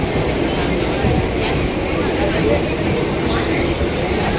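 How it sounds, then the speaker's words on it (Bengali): A crowded Mumbai local train pulls out of Andheri station toward Churchgate, heard from on board as a loud, steady rumble of wheels and carriage noise with no breaks. "এটা হচ্ছিল আন্দ্রি রেল স্টেশন তো এখান থেকে ছেড়ে চলে যাচ্ছে চার্চ গেটের উদ্দেশ্যে"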